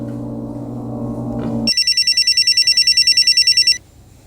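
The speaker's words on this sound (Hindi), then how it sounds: "फोन बज रहा है, फोन उठाओ।" A low hum gives way to a loud electronic telephone ring, a rapid trilling burst lasting about two seconds before cutting off.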